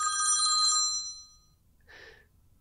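A mobile phone rings in a studio with a bright electronic trill that cuts off after under a second, leaving near silence before a short breathy sound, like a sigh, follows.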